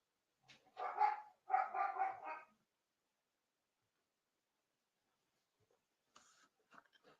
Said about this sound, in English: The dogs are woofing and barking down there.